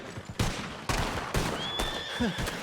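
A horse whinnies in the Red Dead Redemption 2 video game, a high wavering neigh amid bursts of hoof and movement noise, loud and close, with no talking.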